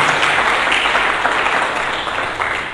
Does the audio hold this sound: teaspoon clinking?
no